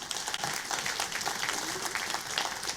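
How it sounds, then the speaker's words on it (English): An audience at a business talk applauds, a dense, continuous clapping from a sizable crowd that stays loud and even throughout. "give yourselves a round of applause"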